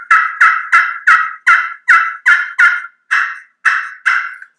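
A handheld turkey call imitates a wild turkey's yelp: a series of about ten sharp, loud, evenly paced rasping notes, close and clear, alone without talk.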